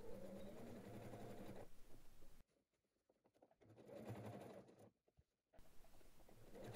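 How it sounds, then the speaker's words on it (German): A domestic sewing machine stitches the bottom seam of a fabric sling bag with a 1 cm seam allowance, running in two steady bursts separated by a short silence, with a brief tail at the end. "Der Boden wird nun genäht"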